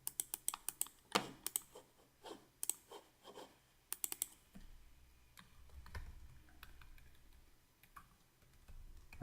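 Keyboard typing at a computer during an Android Studio tutorial, a quick run of sharp key clicks in bursts, close and clear, with pauses and a low rumble near the end.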